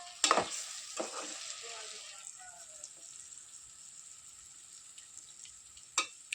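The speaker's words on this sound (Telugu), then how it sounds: "ఇది కొంచెం ఆయిల్ అంతా, కారం అంతా ఉడికేసి ఆయిల్ అంతా బయటకు వచ్చేస్తుంది" Chili masala frying in oil in a pan, a soft continuous sizzle that fades gradually, broken by a few louder stirring scrapes near the start and one sharp scrape near the end, close and quiet.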